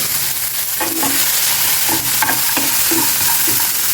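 Chopped tomatoes frying in a pan for ragi idli give a loud, continuous sizzle, with a few soft scrapes of a stirring spoon close by.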